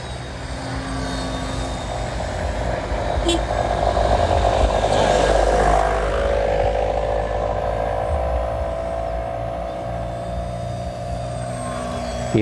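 A mini Ugly Stick RC trainer airplane with a 90 cm wingspan flies overhead, its small engine a continuous buzzing whine that swells louder as it passes nearby, then steadily eases off outdoors.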